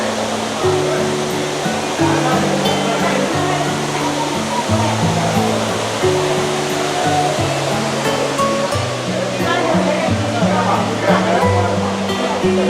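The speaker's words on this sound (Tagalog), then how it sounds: "Oh, here's the waterfall view." The waterfall inside the Cloud Forest at Gardens by the Bay, Singapore, roars as a loud, steady rush of falling water, with people talking and background tones underneath.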